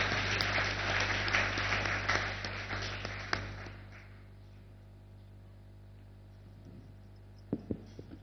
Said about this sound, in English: Ladies and gentlemen, keep the applause going.